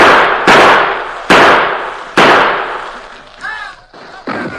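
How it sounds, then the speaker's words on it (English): Four loud, sharp gunshot sound effects in a radio drama ring out at irregular intervals, each decaying with echo, with a brief fainter crackle between them. "maintained a steady gunfire through a window near the bed."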